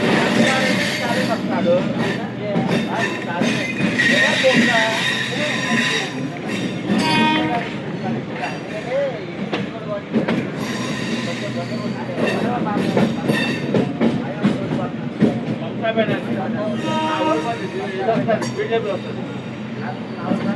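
A passenger train running on rails out of Vijayawada toward Bapatla, heard from inside as a steady loud rumble with rhythmic clatter that carries on unbroken throughout, with voices talking over it.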